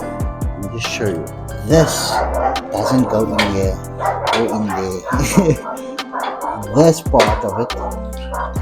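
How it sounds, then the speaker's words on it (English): Dogs bark and yip in the background while someone talks continuously about a car indicator repair, the barks short and intermittent beneath his speech. "sorry about the dogs"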